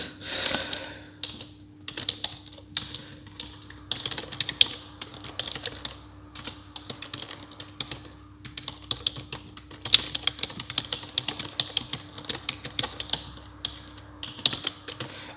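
Steady computer-keyboard typing while writing the conclusion of an affiliate article in a Word document, a continuous run of close, dense key clicks with brief pauses, alone with no talking.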